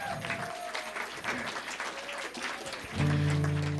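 An audience at a winter solstice celebration applauds a performer, a steady patter of many hands for a few seconds before a low sustained tone swells in near the end.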